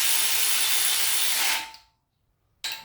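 Power tool tightening a bolt on a chain tensioner guide of a fully built Honda K24 engine, a loud steady whir for about a second and a half, then silence before a brief second burst.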